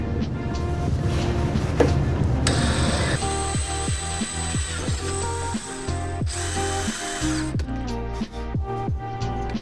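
A power drill whirs steadily up close, its pitch shifting as the bit bores a pilot hole for a fog light mount on a Toyota 4Runner, then a series of short repeated bursts near the end.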